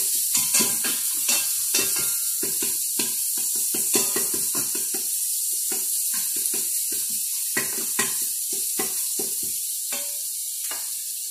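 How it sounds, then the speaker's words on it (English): Bacon frying in a pot for corn chowder, a steady high crackle with irregular popping and scraping clicks throughout, fairly close and alone without talk. "Let the bacon cook down a little bit here."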